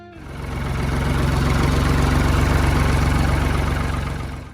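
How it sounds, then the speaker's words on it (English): A Ford 3000 diesel tractor engine idles steadily and close by, its low rumble swelling in after a moment and holding even before easing slightly at the end, with no voices. "Number 3, the Ford 3000 Diesel."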